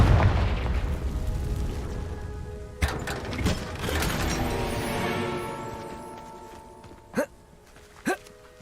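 A Confringo blasting spell in Hogwarts Legacy goes off with a sharp burst and crackling magical effects, followed by a fading ringing tone and two short, punchy pops near the end.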